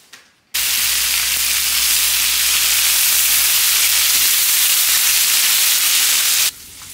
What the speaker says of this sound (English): that's why I'm cooking the bacon and stuff right now